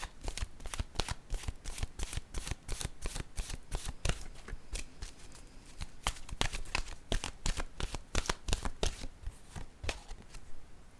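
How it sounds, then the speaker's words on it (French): Oracle cards are shuffled by hand in a steady, rapid run of crisp riffling snaps, close and fairly quiet, continuing without pause and with no speech. "Je vais piger une carte de mon oracle de l'âme intuitive."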